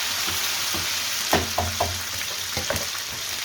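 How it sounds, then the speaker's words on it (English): Ginger and garlic sizzle steadily in a hot pan as a curry base for lamb and spinach, a constant frying hiss with a few sharp stirring clicks and scrapes in between. "So just give that a good sizzle"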